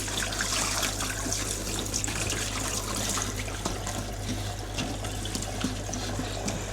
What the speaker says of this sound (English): give them a bit of a rinse with warm water first